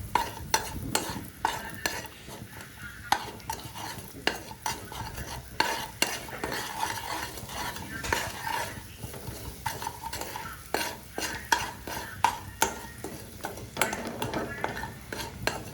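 A utensil stirs and scrapes chili, onion, turmeric and garam masala in a frying pan, with steady repeated clinks and scrapes over a soft, continuous sizzle.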